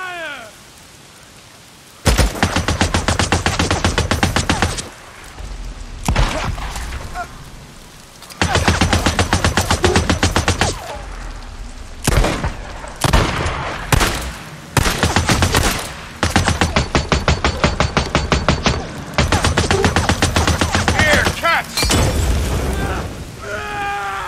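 Long, loud bursts of automatic gunfire in Days Gone, fired in rapid rattling volleys with short pauses between them across the whole span, and a voice heard briefly.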